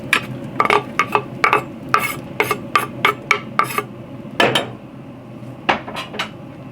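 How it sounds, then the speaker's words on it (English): Onion and garlic are stirred in a tagine cooking on a Pit Boss Navigator 850 pellet grill, heard as a rhythmic series of close, sharp utensil scrapes and clinks against the pot, with no talking. "we're gonna cook the onion and garlic immediately"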